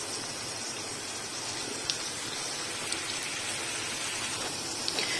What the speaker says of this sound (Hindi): जैसे ऑयल मेरा गर्म होगा थोड़ा सा तो मैं इसमें एक एक करके रोल डाल दूँगी